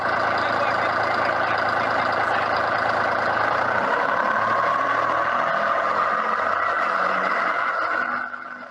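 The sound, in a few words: rotary diesel engine running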